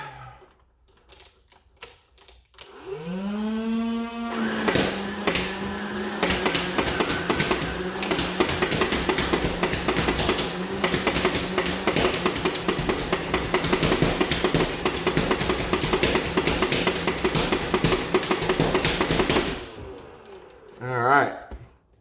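A Nerf Rival Prometheus blaster spins up with a rising motor whine, then fires a fast, steady rattle of rounds for about fifteen seconds before winding down, loud and close with no talk.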